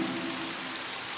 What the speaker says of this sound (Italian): La pioggia! La pioggia!